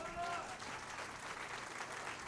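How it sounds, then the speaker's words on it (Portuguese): Church congregation applauding during a Sunday service, a steady wash of clapping heard at moderate distance for the whole short stretch, with a faint tonal ring sounding near the start. "Aplauda ao Senhor, amém?"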